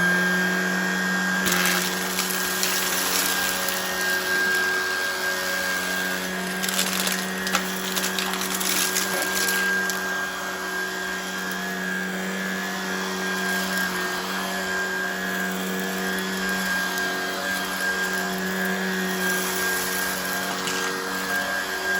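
A Shark Vertex cordless vacuum cleans carpet with a steady whining motor hum, close and continuous throughout, with occasional brief rattling crackles as debris is sucked up and no voices.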